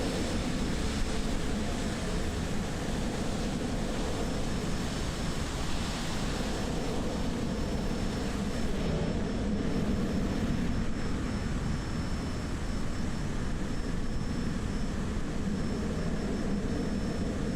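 A Cessna C208 Caravan drones steadily and loudly in Microsoft Flight Simulator during a flight from Antigua and Barbuda to Montserrat, its engine roar continuous for the whole stretch.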